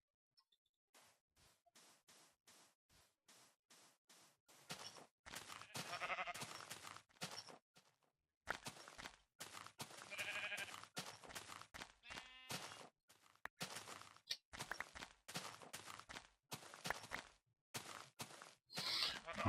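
Sheep bleating in a blocky sandbox video game, several short repeated bleats from a couple of animals mixed with game footsteps and clicks, bursts coming and going over about twenty seconds.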